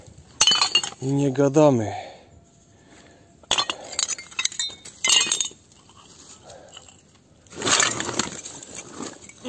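Glass mustard jars clink and knock against each other while being wrapped, several sharp close clinks and rustles in bursts, with someone speaking briefly between them.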